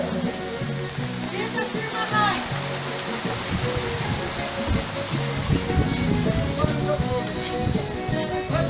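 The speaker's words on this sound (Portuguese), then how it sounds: "Vocês podem ver que já está chovendo forte" Heavy rain falls on a rural farm at night, making a dense, constant hiss, with a voice talking over it now and then.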